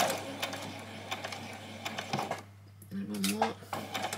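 A home sewing machine stitches along a doll's dress seam, running in steady bursts with a brief pause and restart, close up, with a voice talking over it.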